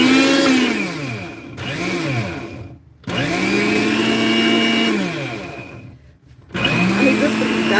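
A food processor dices cooking ingredients in a home kitchen, running in loud whirring bursts with brief stops between them, and its pitch rises and falls as the blades spin up and slow down.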